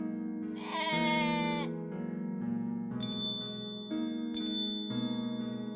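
A sheep bleats in the video game OneShot, a wavering high cry lasting under a second, set over a steady game music drone with two bright bell-like dings later on.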